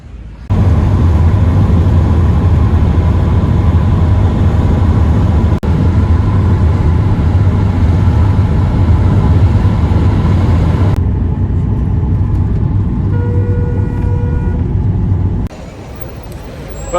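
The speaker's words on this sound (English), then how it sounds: "So this will be my last Louage ride." Louage shared taxi ride in Tunisia heading back to Tunis, a loud, steady interior road and engine rumble with constant hiss that drops to a quieter drone near the end, no talking.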